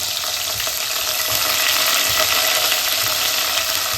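Oil sizzles and crackles steadily as spices, garlic and curry leaves fry in a pan, a dense continuous hiss with occasional soft stirring knocks underneath.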